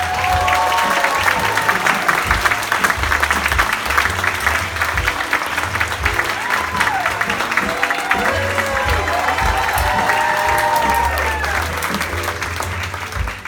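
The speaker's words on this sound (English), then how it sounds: "give a round of applause for the dance towns of College Campus" An audience at a cabaret show claps loudly and steadily for a group of dancers, with dense, continuous applause and some cheering, while music and voices carry on underneath throughout.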